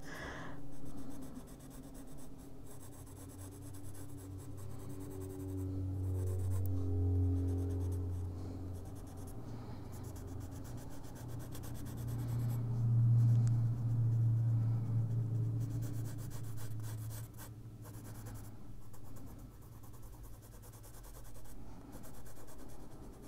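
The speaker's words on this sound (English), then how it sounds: "Thump, thump, thump, thump go the pencils." Colored pencils scratching across paper during adult coloring, a soft continuous rubbing and scribbling with steady back-and-forth strokes, quiet and close, with no voices.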